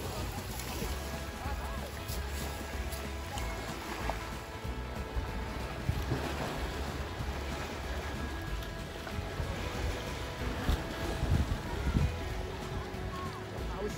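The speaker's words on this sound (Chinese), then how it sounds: "好啦，我哋嚟到呢个海边啦，" Seaside waves at Tai Wan beach in Sai Kung, Hong Kong, a continuous low wash of surf mixed with wind buffeting the microphone, steady and moderately loud throughout.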